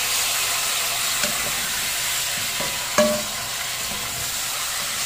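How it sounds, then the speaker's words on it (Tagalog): Pork sinigang being stirred in a pot, a steady soft simmering hiss with a few faint scraping knocks of the spoon against the pot, close and with no talking. "Haluin lang natin hanggang yung nasa ibabaw ay mapunta sa ilalim at ang nasa ilalim ay mapunta sa ibabaw."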